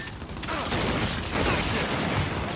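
Gunfire bursts from a pistol in the online shooter Gears 5, dense and continuous over a busy game mix, with loud cracking shots packed close together throughout.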